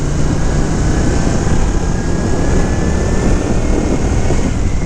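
A 1980 Honda CX500C motorcycle engine idles through its quiet original exhaust, a steady, even running hum and rumble that stays constant and close with no speech.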